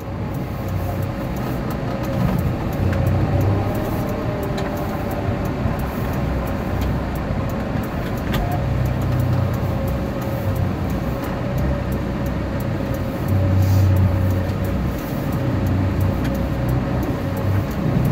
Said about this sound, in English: As you can tell, we've got a traffic jam.